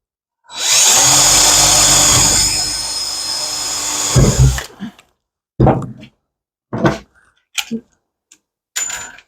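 Pet door on a sliding screen door being fastened with aluminum rivets, a close power-tool whir lasting a few seconds, followed by several short, sharp clicks and snaps.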